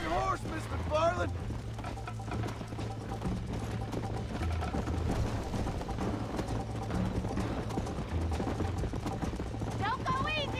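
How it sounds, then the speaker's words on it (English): Horse hooves clip-clop at a gallop in the video game Red Dead Redemption, a steady loud rhythm running throughout under continuous talking, with music and a brief whinny-like tone near the start and end. "I think you chose the wrong horse, Miss McFarland!"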